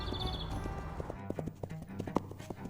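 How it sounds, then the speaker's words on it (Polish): Hooves clip-clop in a quick galloping rhythm, a rapid series of light knocks over a soft background, fairly close but not loud, with a brief whinny-like tone near the start. "ruszył galopem swoim koniem na biegunach"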